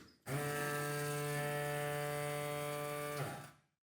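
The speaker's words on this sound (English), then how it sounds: "you'll hear the electric motor start up" The electric motor of a Winlet glass lifter's vacuum suction cups whirs into a steady hum with strong tonal harmonics, running evenly for about three seconds before winding down and stopping.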